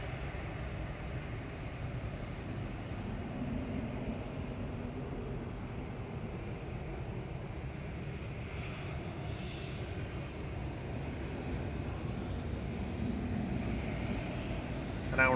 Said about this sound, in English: here we go, first A380 departure of the day